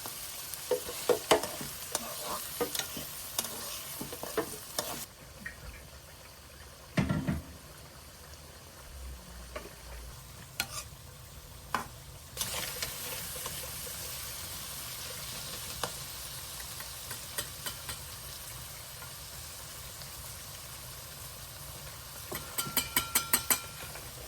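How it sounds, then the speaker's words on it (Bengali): Ginger garlic paste fries in hot oil for a chicken curry, a steady soft sizzle under repeated scraping stirs, with a few louder clatters of the spoon against the pan. "তেলে ভেজে নিতে হবে। পরিমাণ মতো আদা রসুন বাটা দিয়ে দিলাম।"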